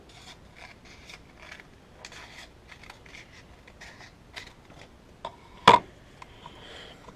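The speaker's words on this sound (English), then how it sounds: "let's cut us a piece of really fine sandpaper" Scissors cut through a strip of very fine sandpaper, a series of soft, short rasping snips close by with quiet pauses between, ending in one sharper, louder cut.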